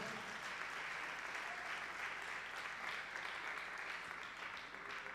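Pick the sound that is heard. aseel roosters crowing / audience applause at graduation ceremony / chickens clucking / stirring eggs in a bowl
audience applause at graduation ceremony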